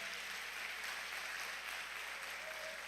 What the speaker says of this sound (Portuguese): Diga amém, dê um aplauso ao Senhor.